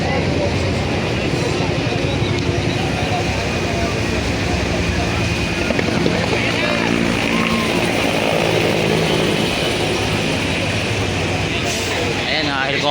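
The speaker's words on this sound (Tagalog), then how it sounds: "helicopter na po tumutulong dito." Helicopter droning overhead during a smoky fire emergency with police on scene, a steady loud rotor and engine roar running continuously under dense crowd noise and speech throughout.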